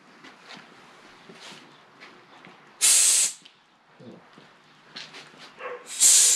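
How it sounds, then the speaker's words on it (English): Compressed air blowing water off a small engine near the flywheel cup: two loud, sharp hissing bursts, the first about half a second long and the second starting near the end, over quiet background rustling. "So I'm going to blow this off and put the flywheel cup back on"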